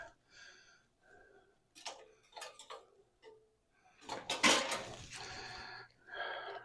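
Pumpkin pie filling mixed by hand in a bowl, with scattered light clinks of a utensil against the dish, then a louder burst of clattering stirring near the end.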